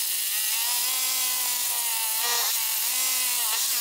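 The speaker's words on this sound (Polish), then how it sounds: "wiertłem z widią, tak aby przewiercić beton" A drill with a carbide-tipped bit grinds steadily into concrete to make a hole for a wall plug, a loud continuous close-up whine with slight changes in pitch as it bites.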